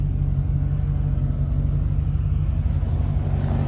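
A 1990 Chevrolet Corvette Greenwood, a C4 in very factory, stock condition with low mileage, has its engine running. The deep, steady rumble stays near and constant throughout with no revving and no voices.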